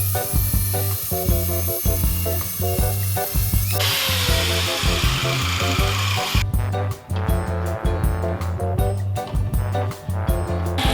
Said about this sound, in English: I'll just put it this other way and then cut it off with a grinder